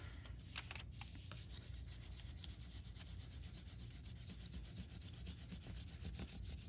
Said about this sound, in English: I'm gonna go ahead and start transferring, rubbing with my spoon, kind of feeling for the grooves